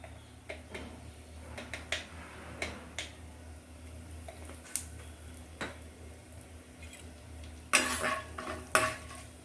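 Whole spices and asafoetida being stirred in a pan for a kaju gathiya sabzi: a spoon scrapes and clicks against the metal at an irregular pace, with two louder clattering knocks near the end and no talk.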